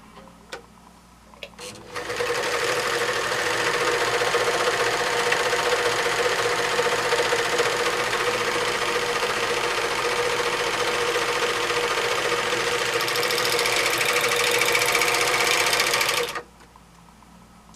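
A serger overlocker sewing machine starts after a quiet moment and runs at a steady, even speed for about fourteen seconds before stopping abruptly; a close, continuous mechanical whir.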